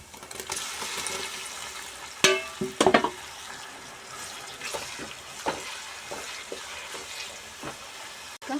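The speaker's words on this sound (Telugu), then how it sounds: "కలుపుతున్నాం పచ్చిమిర్చి టమాటాలు వేసుకున్నాం" Green chillies, tomatoes and onions frying in a pan for a korramenu (murrel) fish curry, stirred with a spoon: a steady low sizzle with a few sharp scraping clatters and knocks, no talking.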